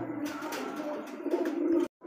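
Rasgolla pigeons at a Bangladeshi pigeon farm coo close by in a low, throaty, rolling call that swells toward the end and then breaks off abruptly.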